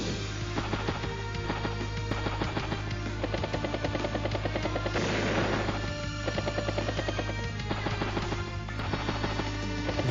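A battle copter in the Advance Wars: Days of Ruin video game gives off a constant whirring rotor chop with rapid rhythmic pulses, mixed with busy game music and effects at a steady level throughout.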